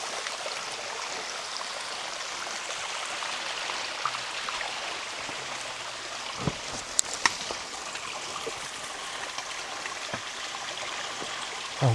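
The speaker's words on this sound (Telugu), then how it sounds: "పొదల్లో వాటి నుంచి వస్తున్నాయి నీళ్ళు" A forest stream trickles out from bushes on the Kumaraparvatha trek, a soft, steady wash of flowing water heard close and fairly quiet, broken by a few small clicks and knocks.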